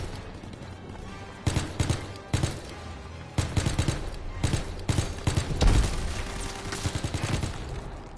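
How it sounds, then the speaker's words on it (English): Bursts of gunfire in a WWII shooter game, clusters of rapid close shots alternating with short lulls, a dense fusillade building toward the end. "I just start shooting everything."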